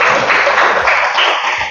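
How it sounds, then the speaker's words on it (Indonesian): A classroom group applauds together, a short burst of dense, steady clapping from many hands close by. "kita boleh tepuk tangan."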